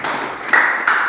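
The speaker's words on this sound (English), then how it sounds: "Can you just clap for yourself?" Students applaud themselves after finishing a road-sweeping machine project, with a short burst of dense, steady clapping that surges louder twice as more hands join in.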